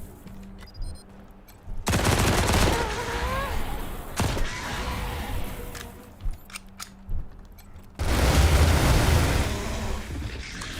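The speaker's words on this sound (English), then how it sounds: "Minigun seems to be a little bit silly." A minigun fires in the video game Wasteland 3 in two loud, dense bursts of rapid gunfire with quieter game sounds between them and no talk.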